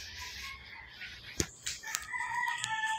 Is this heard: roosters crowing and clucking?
yes